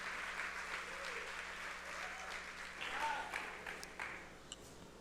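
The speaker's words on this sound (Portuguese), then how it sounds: "Vamos estar recebendo com a salva de palmas o Mário, pastor Jorge, doutor Jenner." An audience at a round-table session of a congress gives a steady round of applause welcoming the speakers, moderately distant, with faint voices and a few brief clicks near the end.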